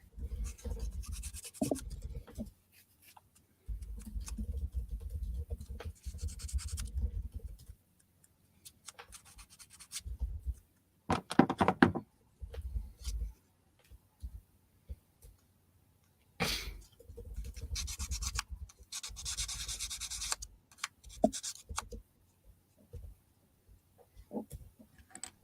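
Small plastic Gunpla model part being rubbed with 400 grit sandpaper, giving close, scratchy back-and-forth strokes in bursts with pauses over the whole stretch; no talk.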